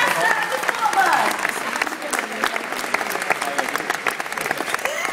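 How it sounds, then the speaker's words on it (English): Audience clapping after a robot bird flight demonstration at a gadget exhibition, lively applause with distinct claps, a voice briefly heard over it near the start. "May I have a round of applause?"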